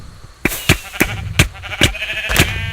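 Sheep in the video game Sheep Quest bleat repeatedly in short, sharp bursts at a quick, uneven pace, loud and close, with no talk over them.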